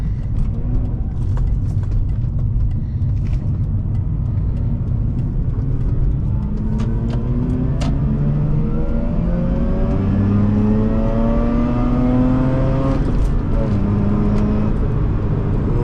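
A 2005 Mazda RX-8 sports car engine drones loudly and steadily while driving, its pitch climbing through gears with a deep, aggressive growl throughout.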